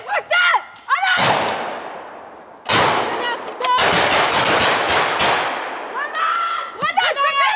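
Gunfire during a French army training exercise: loud, close volleys and bursts of rifle fire, several separate sharp bangs and rattling strings, with people shouting commands between and over the shots.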